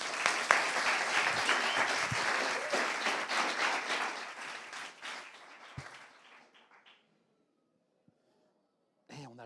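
Audience applause at a talk on entrepreneurs' mental health, a dense burst of many hands that holds strong, then thins into scattered claps and dies away to near silence, with a brief sound returning at the end.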